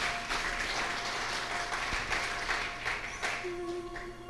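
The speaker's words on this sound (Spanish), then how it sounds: "Dele un fuerte aplauso al Señor Jesús." A church congregation at a Spanish-language sermon in Los Angeles applauds, moderately loud clapping that swells and holds with a few scattered louder claps, heard without speech.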